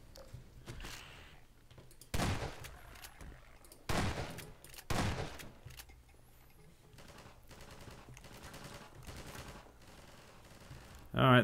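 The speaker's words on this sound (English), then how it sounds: "Alright, there's gunfire going on everywhere. We're in the middle of a real fucking war zone." Gunfire in the Half-Life 2 video game crackles through a war zone setting, with several loud bursts standing out over a constant rattle of distant shots and a dense background of battle noise.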